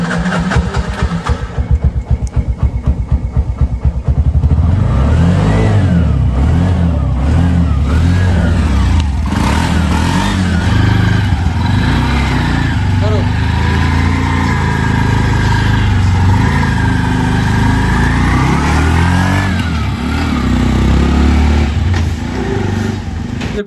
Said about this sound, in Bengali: এই যে দেখেন ইঞ্জিনের সাউন্ড কেমন।